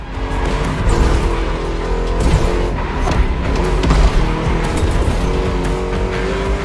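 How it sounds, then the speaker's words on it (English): A V8 car in the racing game The Crew Motorfest, engine roaring loud and close with rising and falling revs through a lap and a hint of tire squeal, no voices. "Just listen to that V8, like a chunky, down-tuned guitar riff."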